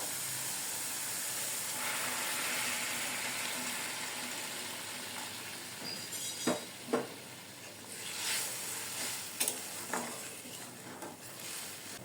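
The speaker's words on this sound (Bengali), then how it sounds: "মশলাটা সুন্দর করে কষিয়ে নিয়েছি এখন আমি হচ্ছে গরম পানি দিয়ে দেবো" Hot water poured into sizzling sautéed spice paste with cinnamon for a green banana and lentil kebab dish, a steady hiss and bubbling with a few sharp clinks and splashes as it settles.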